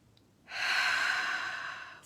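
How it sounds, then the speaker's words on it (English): A single long exhalation, a slow breath out that starts after a short silence and holds steady for over a second before easing off, close and fairly loud, with no talking. "Breathe."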